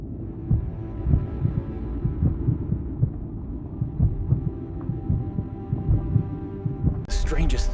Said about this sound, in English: The strangest thing was a sound coming from it, close to the sound of a heartbeat